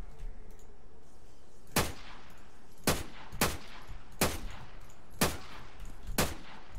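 Six spaced single gunshots fired at a zombie in Arma 3 DayZ, sharp isolated cracks separated by pauses of roughly half a second to a second, over a quiet background.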